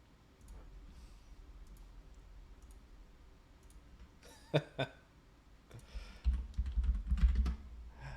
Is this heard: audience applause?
no